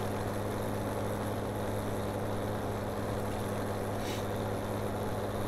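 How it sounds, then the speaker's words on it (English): Mowing tractor engine in Farming Simulator 17, a steady low mechanical drone with a constant hum and no talk, holding level throughout and briefly brightened by a short hiss near the end. "This is our mowing tractor then."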